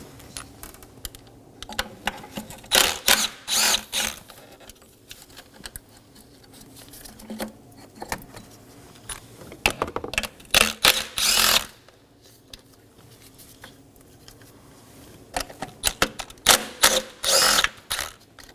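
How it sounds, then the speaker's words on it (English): An impact wrench with a 10mm socket rattles out bolts that hold the solenoids to the intake manifold of a 2015-2023 Nissan Maxima. It runs in several loud, buzzing bursts separated by quieter pauses. "Now we're going to take a 10mm on a impact wrench and remove these 10mm bolts"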